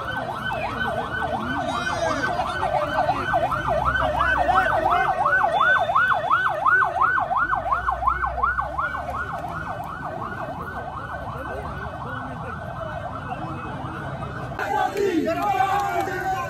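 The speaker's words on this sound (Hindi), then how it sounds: "एम्बुलेंस है, रास्ता दे दो एम्बुलेंस को।" An ambulance siren wails steadily in a rapid rising-and-falling pattern, loud and close, over a noisy, chanting political protest crowd in Rawalpindi until it cuts off near the end.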